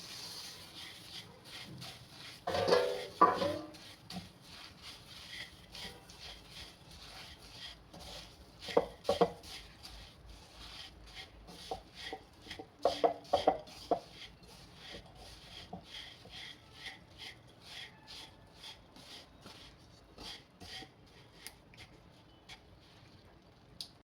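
A sesame and jaggery mixture being stirred in a pan for tilgul revdi, with scraping and rubbing strokes that come in short bursts between quieter stretches, close and fairly soft.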